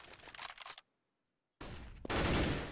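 Bursts of gunfire in a Counter-Strike match, loud and dense, cutting out into a second of silence before another heavy volley and a sustained stretch of rapid shots.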